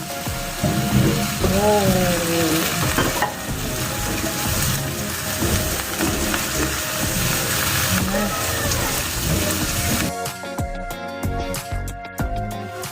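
Loud, continuous sizzling and scraping in a hot pan as kwetiau rice noodles are tossed and stirred, with metal utensil clatter and some background voices.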